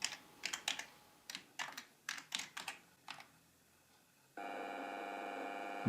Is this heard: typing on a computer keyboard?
yes